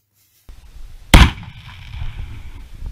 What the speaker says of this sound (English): But it's still fun shooting the Dragon's Breath at a piece of meat.